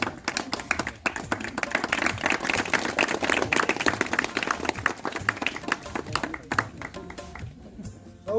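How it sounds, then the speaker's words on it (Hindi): Many people clap together at an engagement ceremony, a dense, steady applause that runs close and loud for several seconds before thinning out near the end. "ताली बजा देना"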